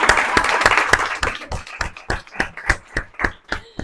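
An audience applauds at a talk on child protection in digital settings, a dense wash of clapping that thins into scattered, separate claps toward the end.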